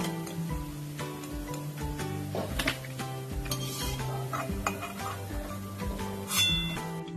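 Fried palm fritters being lifted out of a pan with a utensil, with steady scraping and clinking against metal over a continuous background hiss of frying.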